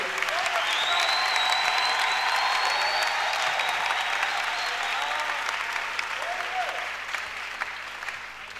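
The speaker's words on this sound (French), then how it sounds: "Je lui donne à Dieu une main d'acclamation." Congregation in a church clapping at length, a full, even roar of applause with scattered cheers and voices, easing off slightly near the end.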